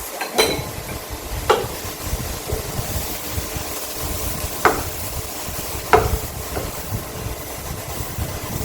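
Mushroom datshi, the Bhutanese mushroom-and-cheese dish, stirred in a pan, with soft scraping strokes and occasional sharper knocks of the spoon against the pan over a steady low sizzle and background hum, close and moderately loud.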